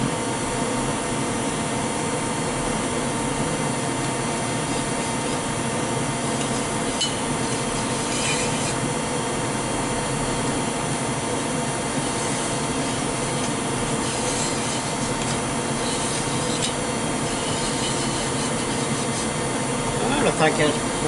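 A brass brush scrubs inside the barrel of a Marlin 60 .22 rifle, making a steady, close, raspy rubbing, with someone talking at times.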